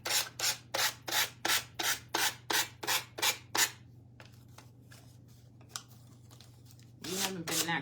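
A handheld finger sander smooths the cut edges of paper for a banner, making about a dozen quick, even rasping strokes in a steady rhythm, close and clear. Then it pauses, with a soft tap and a brief voice near the end.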